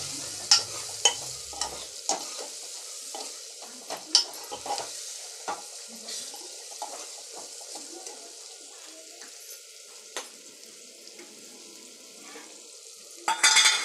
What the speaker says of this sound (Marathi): आणि आता ही फोडणी चांगली हलवून घ्यायची आपण.